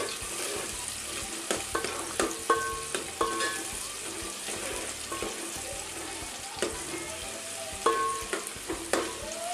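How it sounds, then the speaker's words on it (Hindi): Onions frying in hot oil over high flame produce a soft, continuous sizzle, with intermittent sharp clinks and scrapes of a utensil against the pan. "गरम हो जाए तो प्याज डाल देना।"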